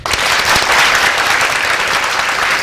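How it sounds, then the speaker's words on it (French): Studio audience on a live French-language Belgian radio-TV broadcast breaks into steady, dense applause, loud and close, sustained evenly from start to finish with no voices over it. "on l'applaudit"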